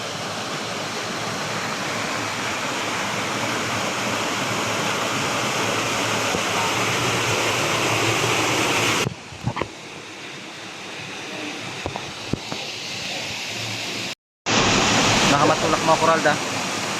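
A waterfall in a mountain forest gives a loud, continuous rushing roar that is nearly all there is for the first half, then breaks up into choppier bursts with short gaps. A voice is faintly audible over it in places.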